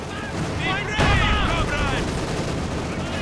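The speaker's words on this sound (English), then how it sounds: "Su-76 barraging and killing poor Heinz" An Su-76 assault gun fires a barrage in a Company of Heroes 2 battle, with a sudden loud boom and a burst of explosive rumble over a steady game soundscape that also carries shouted, voice-like unit chatter.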